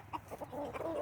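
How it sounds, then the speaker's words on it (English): Brief, close clucking from a hen in a muddy coop, a few short throaty notes in quick succession. "All right, so here are my chickens,"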